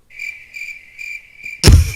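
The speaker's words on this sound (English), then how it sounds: "Apparently he has a couple of crickets" A radio-show cricket sound effect: a steady, close, high-pitched chirping trill in several short bursts, cut off by a brief loud thump at the end.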